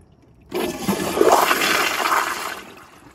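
A Toto CT705 toilet on a piston flushometer flushes with an abrupt, loud rush of water that holds steady for a few seconds and then tapers off.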